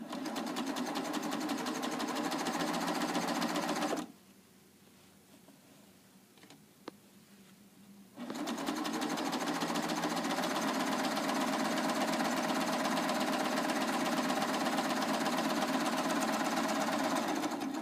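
Baby Lock serger sewing machine stitching quilt pieces, a loud rapid mechanical whir that runs steadily, stops for a few seconds of near quiet with a small click, then starts up again at full speed.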